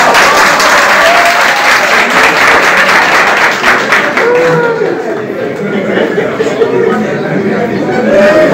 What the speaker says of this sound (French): je vais vous demander de ne pas applaudir